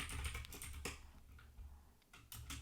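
Rapid clicking of keystrokes on a computer keyboard while Python code is typed, close and fairly steady with short bursts and a brief pause.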